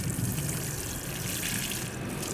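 Water poured from a one-gallon container of water-soluble fertilizer mix into a potted herb, a steady, close splashing and trickling stream that runs throughout.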